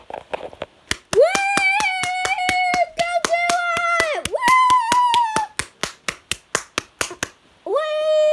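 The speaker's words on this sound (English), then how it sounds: "Skitty, that's not how you do a round of applause" Children clap in a slow, uneven, sharp rhythm, close and distinct, while a voice sings or calls loud sustained notes over the claps. The claps carry on alone near the end before the voice returns.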